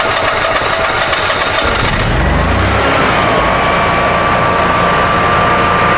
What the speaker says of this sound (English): So we have a successful start, and then we'll let this engine run for about 5-10 minutes